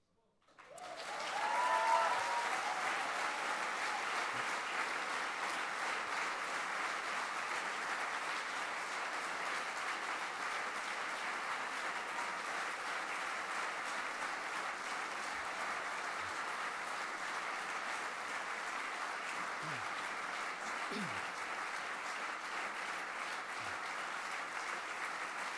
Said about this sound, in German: der Applaus hätte dann erst später kommen sollen